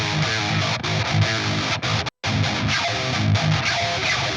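Heavily distorted metal electric guitar riffing through free amp plugins with the EQ switched off, chugging palm-muted chords played loud and alone, broken by one brief dead-silent gap partway through.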